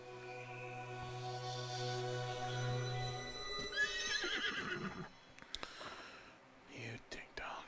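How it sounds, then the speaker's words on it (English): A revived horse in Zelda: Breath of the Wild gives a loud, drawn-out whinny, followed by brief hoof clops and chimes while a person talks quietly. "Let me bring back this horse."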